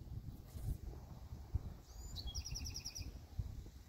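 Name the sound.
birds calling in the trees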